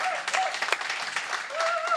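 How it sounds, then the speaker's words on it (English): Light audience applause for Deborah and Cynthia at a talk event, modest scattered clapping lasting a couple of seconds with some crowd murmur. "I think everybody should give Deborah and Cynthia a round of applause."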